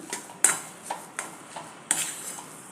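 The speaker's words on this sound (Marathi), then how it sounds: "हे असं 1-2 मिनटं असं नुसतं हलवून घ्यायचं" A spoon stirs upma in a metal pan, giving several sharp scraping clinks at an uneven pace, close and fairly clear with no talking.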